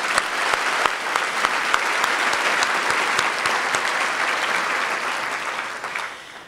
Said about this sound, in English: Let's give Sheriff Lima another round of applause.